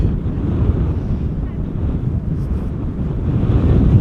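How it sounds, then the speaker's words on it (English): Strong wind buffeting a microphone outdoors at Amsterdam Schiphol Airport, a loud, continuous low rumble that swells slightly toward the end. "The wind is still blowing from the west."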